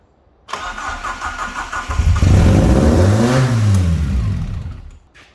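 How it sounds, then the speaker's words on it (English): An Alfa Romeo 145 Cloverleaf engine cranks and catches, then revs up loud and high from a misadjusted throttle cable, the pitch climbing and falling before easing off near the end. "the throttle cable's not adjusted right and it's revving way too high"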